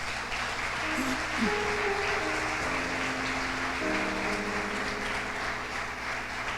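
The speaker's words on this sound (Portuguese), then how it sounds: "Se você crê, que você aplauda Jesus mais uma vez." Congregation applause in a church, a steady wash of many hands clapping at moderate volume, with sustained musical tones and faint voices underneath.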